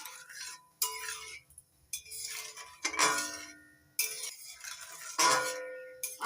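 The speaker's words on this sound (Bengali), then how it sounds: "আলু নাড়াচাড়া করে মিশিয়ে নিচ্ছি।" Potatoes coated in spices are stirred in a pan with water just added, giving repeated bursts of close scraping and clinking from the utensil against the pan, separated by short pauses.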